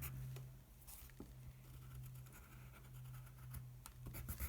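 Quiet scratchy strokes of a pencil or pen on paper while chrysalises are drawn in a science journal, with soft irregular scribbles close to the microphone over a low electrical hum.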